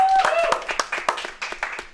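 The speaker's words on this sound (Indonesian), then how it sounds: "Ya, tepuk tangan untuk Jevin Ikhlas." Small audience clapping for a guest on a talk show, a short scattered run of individual hand claps, fairly close and uneven, fading after a couple of seconds.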